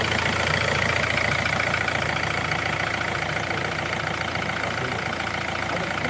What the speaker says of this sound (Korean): 지금 시동 걸렸고 8만 킬로 탔고 시동 잘 걸렸고 소리 괜찮습니다